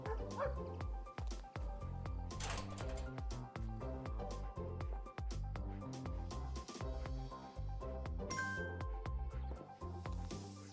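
A dog in an animal shelter video game barks and yips repeatedly with whimpers between, in quick irregular bursts over a constant bed of game music.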